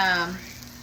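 Pulled pork browns in a hot pan with a short burst of sizzling that fades quickly, close by with no voices.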